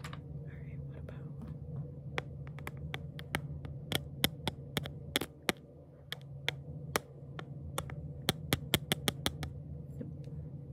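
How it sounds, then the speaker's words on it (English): A colored pencil tapped and brushed against a microphone in a close ASMR setting, giving a string of sharp, very close clicks and taps in irregular rhythm over a low steady hum, with soft whispering underneath. "Yep, that's a colored pencil."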